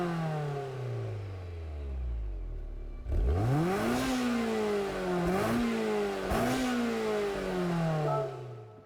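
A 1998 Honda Integra Type R engine in Gran Turismo 7 revs hard several times, its pitch climbing and dropping through repeated throttle blips and gear-like swoops, loud and close with no talk.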